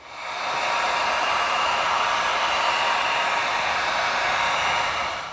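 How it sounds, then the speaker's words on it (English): Bandsaw cutting an EVA foam spacer, a steady loud broadband whir held evenly for several seconds, close by with no talking. "Cut the spacer out on the bandsaw."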